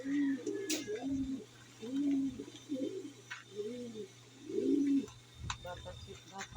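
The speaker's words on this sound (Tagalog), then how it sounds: "Ito ang ibon natin na si kalapatids, si Blue Spread" A blue spread pigeon coos close by in a series of soft, rounded, throaty calls, about six in a row, with faint background noise.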